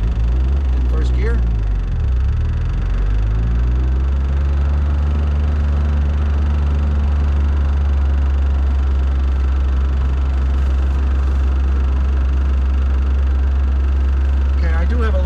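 A 1979 MG Midget engine runs loud and steady while driving, a low droning hum with a brief rev swell near the start and at the end.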